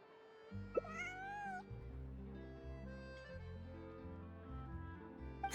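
A cat meows in the game Genshin Impact, one clear rising mew standing out over soft, sustained background music, with the scene otherwise calm and no speech.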